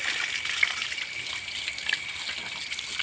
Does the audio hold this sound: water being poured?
yes